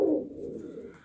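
Ornamental pigeons coo softly at a poultry show, a low murmuring coo starting strongest and tapering over about a second, with no talk.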